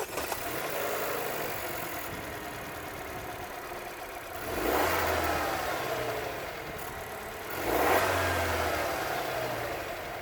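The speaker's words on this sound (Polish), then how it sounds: "Tak ta bestia brzmi." A Dacia Duster 2021 with the 1.3 TCe 150 turbo four-cylinder petrol engine and EDC gearbox idles, then is revved twice in short bursts that swell and fall back to a steady idle, heard up close.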